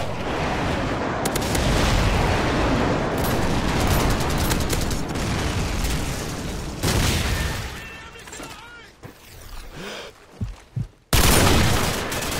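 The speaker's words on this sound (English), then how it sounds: "Friendly airstrike on the way." Airstrike explosions in Call of Duty 4 multiplayer on the map Crash, heard as dense, continuous rumbling blasts and gunfire at high level, then a break with scattered sharper bangs and a final loud burst.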